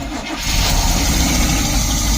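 A 1972 Barth motorhome engine turns over and catches after a brief crank, then settles into a loud, steady idle up close with no voices.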